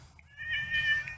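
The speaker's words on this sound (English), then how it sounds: "That's Morris the cat." A cat lets out one clear, drawn-out meow nearby in a quiet Florida outdoor setting, with no talking over it.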